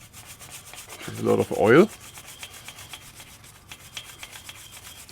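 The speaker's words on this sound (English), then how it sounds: "So with a steel brush" A steel brush scrubs rust off a shock absorber mount on a 2011-2018 Jeep Grand Cherokee WK2, one short burst of close, rasping strokes lasting under a second, then quiet.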